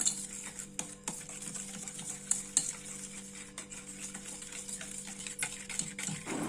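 Cake batter of semolina and powdered sugar is beaten in a bowl, giving soft, continuous scraping and whisking with light taps against the bowl, close and quiet.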